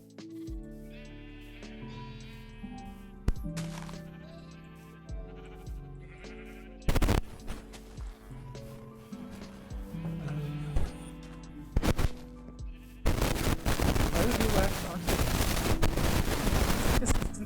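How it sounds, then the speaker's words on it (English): Sheep in the Minecraft video game bleat repeatedly in short, wavering calls, broken by sharp clacking bursts and ending in a dense, noisy clatter. "Oh no, now all the sheep are escaping."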